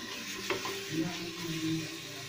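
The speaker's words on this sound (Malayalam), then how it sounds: "ഇഞ്ചി വെളുത്തുള്ളി പച്ചമുളക് പേസ്റ്റ് ഇട്ട് കൊടുക്കാം ഒന്നുകൂടി മിക്സ് ചെയ്ത് കൊടുക്കാം" Ginger, garlic and green chili paste is stirred as it fries in a pan while mutton biryani is being made. A low, quiet sizzle runs throughout, with a few soft scraping strokes.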